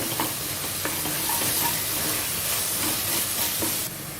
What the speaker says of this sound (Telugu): ఇప్పుడు మళ్ళీ 1 నిమిషం ఫ్రై చేసేసుకోవాలి